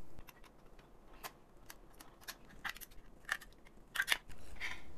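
A blade cuts 3D-printed support material out along the top and bottom edges of a printed lid for a pop-up towel hanger, giving close, irregular snips and crunchy clicks that come more often and louder toward the end.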